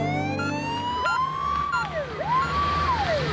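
A Wellington Free Ambulance in New Zealand runs a code 1 emergency response with its siren on, a loud, close wail that sweeps steadily up and down in repeating cycles.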